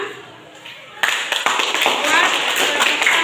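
A school class claps hands in a classroom, starting abruptly after a quiet second and continuing as steady, moderately loud group clapping with voices mixed in.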